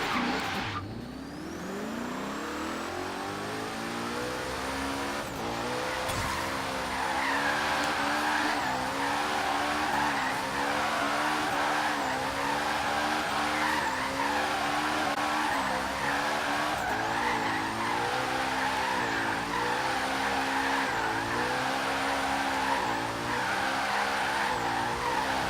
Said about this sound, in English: Let's test your drift ability.